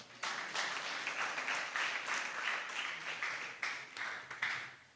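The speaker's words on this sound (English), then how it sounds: "let us give a big round of applause to our honorable speaker and moderator." An audience applauds a speaker and moderator at an academic session: dense, sustained clapping that holds steady for about four seconds with small pulses, then tapers off near the end.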